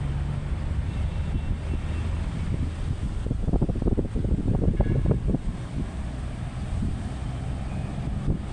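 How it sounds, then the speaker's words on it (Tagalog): Sea breeze blowing along Manila Bay's Dolomite Beach, gusting into the microphone as uneven low rumbling buffets that swell and ease over several seconds, with no voices. "Sarap ng simoy ng hangin."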